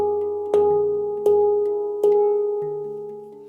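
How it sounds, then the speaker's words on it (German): Three short, light strikes on a handpan ring out in a steady rhythm, each bright metallic note sustaining and slowly decaying, followed by a softer fourth tone, with no talking. "dass du die Handpan nicht zu doll und nur so kurz wie möglich berührst."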